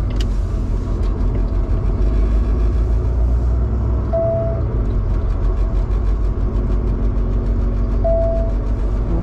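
A truck engine drones steadily while driving on a road toward a parking spot, a loud continuous low rumble with no pauses, and a short electronic tone sounds twice faintly above it.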